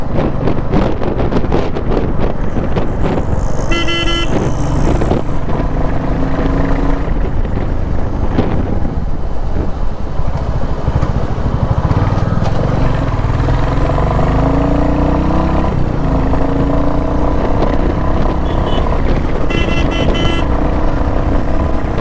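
A 2021 Royal Enfield Classic 350 motorcycle at speed on a top speed test, its steady engine drone buried under constant loud wind buffeting on the microphone throughout.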